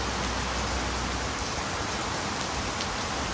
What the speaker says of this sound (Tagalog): masarap maligo sa ulan ngayon